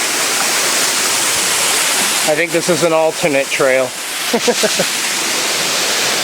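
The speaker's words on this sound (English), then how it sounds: "We're gonna go show you these waterfalls over here as well." Champney waterfalls, a loud, steady rush of falling water close by throughout, with someone briefly talking over it partway through.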